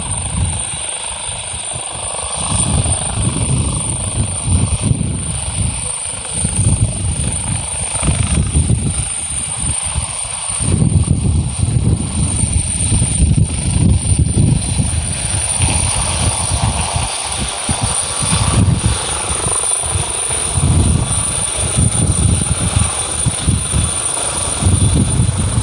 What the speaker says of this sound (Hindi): इस समय भूपेश बघेल का हेलीकॉप्टर आए थे बेमेतरा लोलेसरा में, अब यहाँ उड़ान भर चुके हैं